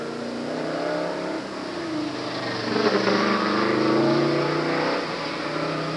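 A 1978 Corvette Coupe engine revs up and accelerates from the start box at a solo autocross event, the motor note rising in pitch over several seconds, steady and fairly close with no talking.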